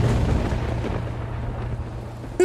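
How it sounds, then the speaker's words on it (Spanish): Cartoon rain with thunder: a low, rumbling wash of rain and distant thunder fills a short stretch at moderate level, ending abruptly in a brief sharp sound. "¡Mamá, está lloviendo!"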